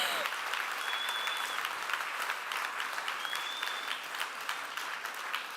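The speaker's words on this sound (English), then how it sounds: "round of applause to all the pitches tonight, to all the teams" Sustained applause from an evening audience at a humanitarian innovation pitch event, many hands clapping steadily at moderate distance, with a faint high whistle-like tone drifting in twice.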